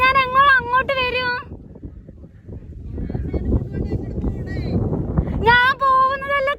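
Wind gusts roar steadily across the microphone during a fishing outing, a rough broadband rush filling the middle stretch, with a high-pitched voice speaking before and after it.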